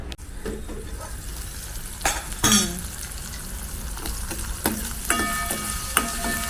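Onions fry in a pan with a steady, close sizzle, broken by a few clinks and scrapes of a spoon stirring and tapping against the pan.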